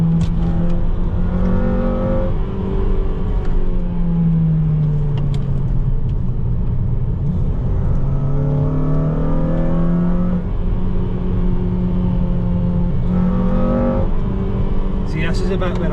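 A car at a novice track day at Knockhill Racing Circuit drones steadily from inside the cabin, its engine note rising and falling through gear changes while a person talks over it.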